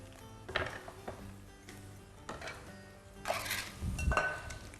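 Dishes and pans clatter and clink during home cooking of a baked dish with chicken, spinach and egg, a few scattered knocks then a busier rattle of cookware near the end, close and moderately loud.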